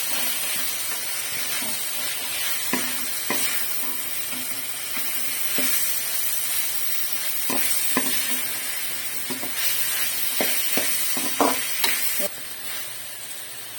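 Chopped vegetables sautéing in a pan for a hotel-style white vegetable kurma, a continuous gentle sizzle broken by intermittent scrapes and taps of a spoon stirring, without speech.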